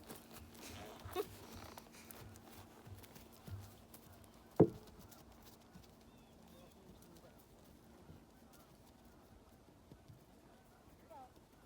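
Faint, distant hoof clip-clops of a horse walking at an unhurried pace, with one sharper knock midway and soft background murmur.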